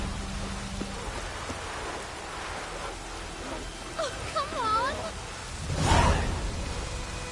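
Steady soft rain hiss with patter throughout in The Witcher 3 video game, a voice briefly speaking in the middle, and a louder whooshing swell near the end.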